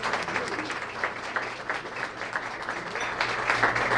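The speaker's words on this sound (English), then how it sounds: "let's give everyone a great round of applause" Sustained applause fills a room at a student-of-the-month event, many hands clapping in a steady, moderately loud wash with slight swells toward the end.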